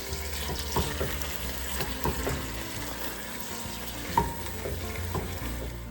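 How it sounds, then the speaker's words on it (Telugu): Chicken and fresh mint stirred while frying in a pan for chicken pulao, a steady oily sizzle with repeated scraping strokes of a spoon, close and fairly loud. "ఇప్పుడు పుదీనా కూడా వేసిన తర్వాత ఒకసారి మళ్ళీ కలిపేసుకుందాం"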